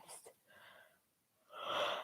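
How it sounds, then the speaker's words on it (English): A person yawns during an evening yoga class, a soft breathy intake and airy exhale that is faint and close, followed by a louder drawn-out breathy sigh. "Yawning. Very important to yawn."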